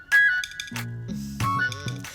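A phone ringing indoors, bright electronic ringtone bursts with a melodic pattern, fairly loud and close, repeating a few times in quick succession.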